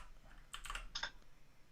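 Quick keystrokes on a computer keyboard while writing Python code, a short burst of two or three light clicks close by in a quiet room.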